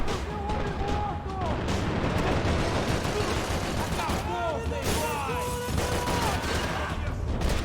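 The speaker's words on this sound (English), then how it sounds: "Oh, is this shoot dodge?" Dense gunfire during a slow-motion shoot dodge in the video game Max Payne 3, a loud, continuous barrage with overlapping shots and booms, with voices talking faintly underneath.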